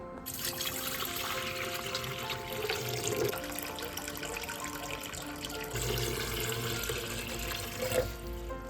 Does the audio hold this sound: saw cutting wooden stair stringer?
no